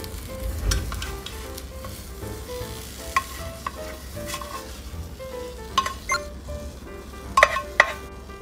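Dashimaki tamago egg mixture with white dashi frying gently over low heat in a home frying pan and being rolled with a spatula: a soft continuous sizzle with occasional light spatula taps and scrapes.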